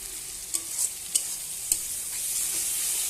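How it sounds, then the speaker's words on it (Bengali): Fish and floury potatoes sautéing uncovered in a pan, a steady high sizzle broken by a few sharp scrapes and clinks of the spatula early on, close and alone. "তো আমি আর ঢাকবো না, এভাবে একটু কষাবো।"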